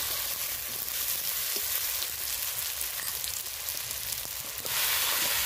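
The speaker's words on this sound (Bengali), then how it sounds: "টমেটোগুলো একটু কষিয়ে নিয়ে আমি এর মধ্যে দিয়ে দেবো ম্যারিনেট করে রাখা মাংস।" Marinated mutton hits frying tomatoes in a pan, giving a loud, continuous close sizzle with crackling spatter that swells toward the end.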